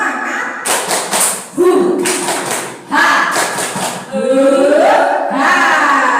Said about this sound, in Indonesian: kita beri tepuk semangat dulu untuk ibu-ibu semuanya biar tidak ngantuk